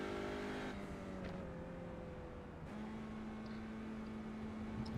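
A front-wheel-drive Audi race car on a track, its engine droning steadily with a gear change partway through, holding a sustained tone without passing away.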